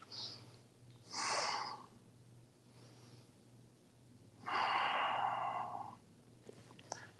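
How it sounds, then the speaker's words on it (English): During a low-back yoga stretch, a person takes slow, deep breaths close by, with two long, airy breaths separated by quieter pauses. Faint background hum sits underneath, and no one speaks. "Breathing deep to deepen the stretch."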